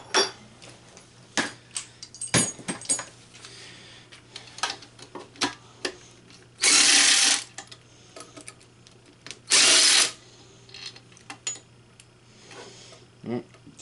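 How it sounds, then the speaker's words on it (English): A small electric impact wrench spins out Volkswagen Rabbit cylinder head bolts in two loud, sustained bursts of about a second each. Scattered clicks and knocks of tools and parts fill the gaps between them, up close. "probably just run them out with the impact, so with that little electric impact that we used"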